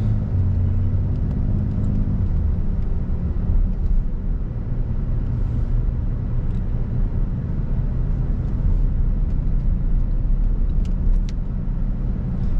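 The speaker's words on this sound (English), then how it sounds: "So at the moment, I'm just driving in Portishead." Steady low engine and road rumble inside a car cruising through Portishead near Bristol, a constant close drone with a gear change early on and occasional faint clicks.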